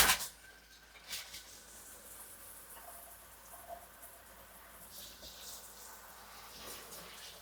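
Cold water runs steadily from an RV shower, a continuous moderate hiss with a few faint spatters and knocks over several seconds.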